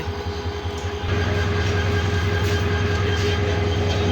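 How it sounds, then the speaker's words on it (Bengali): Jamalpur Express train at Joydebpur railway station, a loud, close rumble with a low droning engine hum that swells after a second and holds steady, wheels rolling throughout. "জামালপুর এক্সপ্রেস ট্রেনটি ঢাকা থেকে চলে আসলো।"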